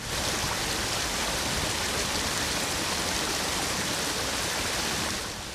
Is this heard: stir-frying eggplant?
no